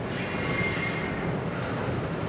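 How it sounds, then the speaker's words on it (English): A long CSX freight train rolls steadily past up close, the loud continuous roar of cars and wheels filling the whole stretch with faint squealing, no talk. "I don't know how many cars this train's got"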